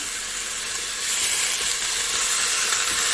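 Minced meat fries in a pot without oil, a loud, close, steady hiss and sizzle that swells slightly after the first second, with no voices.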